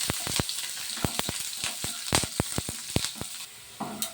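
Chopped onions fry in hot oil in a wok, giving a steady sizzle broken by a string of sharp crackles and pops, close and fairly loud, with no voices.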